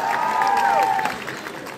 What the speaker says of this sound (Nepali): यो सम्भावनालाई खाती राखेर जोडा ताली बजाऊ प्लिज